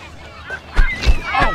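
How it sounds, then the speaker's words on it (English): Honking birds call out in three loud, close bursts, each a short nasal honk, with no talking over them. "Birds."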